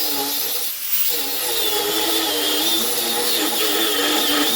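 A power tool cuts a piece of metal to length for a knife-making project, giving a continuous high whining grind that dips briefly near the start and then runs steadily to the end.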